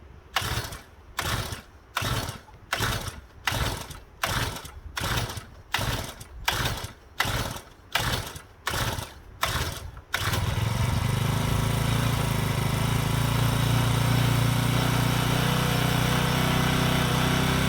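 An X-PRO 40cc four-wheeler engine pull-started: about a dozen rhythmic ratcheting pull-cord strokes, then the small engine catches and settles into a loud, steady idle hum.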